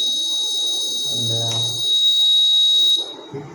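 A Zigbee health monitoring system's buzzer alarm sounds as a steady, piercing high tone for about three seconds and then cuts off, with a brief low hum and faint background noise around it.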